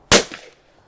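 A single sharp report from a .410 side-by-side shotgun fired at a clay target outdoors, loud and close, with a short decaying tail and a faint echo.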